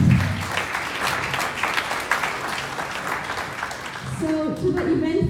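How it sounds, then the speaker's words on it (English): A steady wash of audience applause fills the room at an eMpower Africa evening event. It is dense and sustained throughout, and a voice begins talking near the end. "please give yourself a round of applause for being here"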